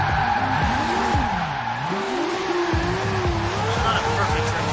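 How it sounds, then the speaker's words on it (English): A car drifts in the racing game Forza Horizon 4, its tires squealing in long, wavering howls over a steady engine drone, loud and sustained throughout. "choose what car you want to drift with, tune it to your liking, and then drift with it"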